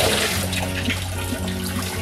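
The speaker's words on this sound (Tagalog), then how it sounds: "Lagyan natin pa yung tubig." Water pours into a pot of boiling liquid in a home kitchen, a continuous splashing gush with a steady low hum underneath.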